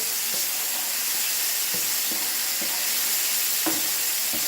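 Garlic sizzles steadily in olive oil in a pan while being stirred, a close, continuous frying hiss broken by several soft scraping knocks from the utensil.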